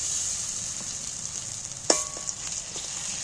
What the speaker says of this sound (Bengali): সামান্য একটু তেলটার মধ্যে নাড়াচাড়া করে নিচ্ছি